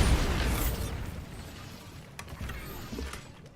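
Bombarda blasting spell explosion in Hogwarts Legacy, a fairly quiet, rumbling blast already fading from the first instant, trailing into scattered debris clatter and small pops.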